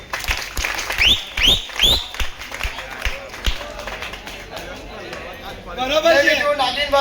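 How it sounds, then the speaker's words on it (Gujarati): Applause and clapping at a Shri Ram Cup cricket final match, a burst of claps from the crowd rising and falling in waves, mixed with a voice speaking over it. "તો બીજી બધી ટીમો મારી તાળી આપજો."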